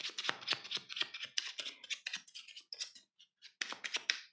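A deck of playing cards is given an overhand shuffle, producing a quick, rhythmic run of close papery riffles and slaps that pauses briefly before picking up again.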